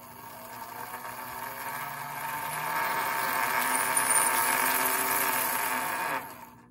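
A small electric motor powered through a renovated battery eliminator whirs steadily, rising a little in pitch and loudness before cutting off, close up with no talking.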